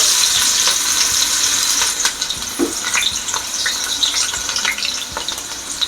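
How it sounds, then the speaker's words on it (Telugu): Onions sizzle and crackle in a hot pan for a Telugu chicken fry, a steady close frying hiss with occasional stirring scrapes throughout. "ఎర్రగడ్డలు వేస్తున్నాను."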